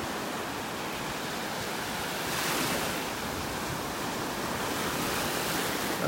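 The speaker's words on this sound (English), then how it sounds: "Some little waves breaking on the sandbar here." Small waves break on a sandbar at Delnor-Wiggins Pass State Park beach, heard as a continuous broad wash of surf that swells briefly partway through, with no voices present.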